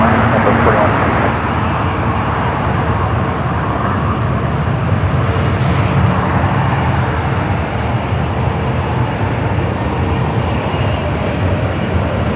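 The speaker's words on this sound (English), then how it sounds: "Next arrival here on the north side, southwest, flight 4127 to 737 of Max 8." Southwest Boeing 737 MAX 8 arriving at LAX, a loud, steady jet roar that holds for the whole stretch, broad and close with a slight swell near the middle and no let-up.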